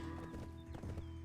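Horse hooves clip-clop in a fast galloping rhythm in a video game, several quick thuds over a steady game soundtrack hum.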